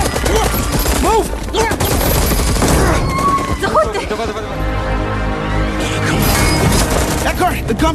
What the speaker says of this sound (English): the Gumps are firing on civilians